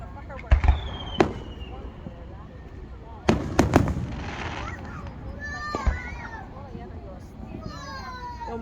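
Fourth of July fireworks go off outdoors as sharp scattered bangs and crackles, some in quick clusters. People talk throughout, and there are whistling squeals between the bursts.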